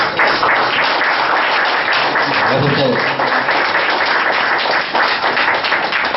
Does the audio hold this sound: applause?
yes